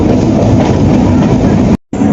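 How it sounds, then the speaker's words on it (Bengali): A train running at speed, with a loud, continuous broadband rumble and rattle heard from on board, steady throughout apart from a brief dropout near the end. "ট্রেন এখন স্পিডে যাচ্ছে"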